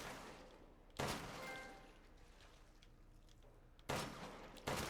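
A pistol fires in a video game, a few sharp broadband shots standing out loudly and alone against a steady background ambience, with one near the start and a quick pair toward the end.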